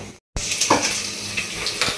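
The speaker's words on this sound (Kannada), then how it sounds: "ಇವಾಗ ಒಗ್ಗರಣೆ ಮಾಡಿದ್ದೀನಿ" Spices temper in hot organic sunflower oil in a home kitchen, hissing and sizzling loudly after a brief silence, with a couple of faint utensil clinks.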